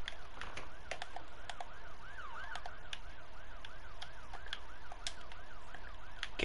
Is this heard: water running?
no